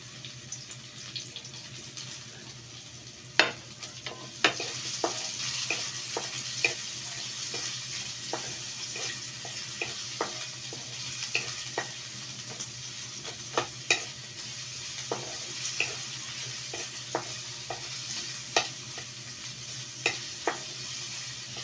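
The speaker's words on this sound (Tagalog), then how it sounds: "Gisa-gisa muna natin yung ating bawang. Then, ilagay na natin yung ating sibuyas." Garlic and onion sautéing in a pan for sotanghon with patola and canned salmon, producing a steady hissing sizzle at close range with frequent light clicks and scrapes of a utensil stirring throughout.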